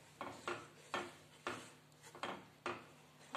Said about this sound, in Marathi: त्याच्यासाठी सतत चमचा हलवत राहणे गरजेचं आहे